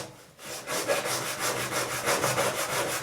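Sandpaper is worked by hand across a wood surface in rhythmic back-and-forth strokes, a steady scratchy rasping that repeats close up with no talking.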